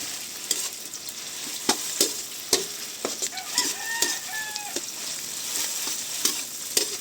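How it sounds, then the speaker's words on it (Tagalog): Tomato paste sautéing in a pan gives a steady sizzle with repeated sharp scrapes and taps from stirring, while a rooster crows faintly in the background. "mas maganda po ay ginigisa talaga ang tomato paste"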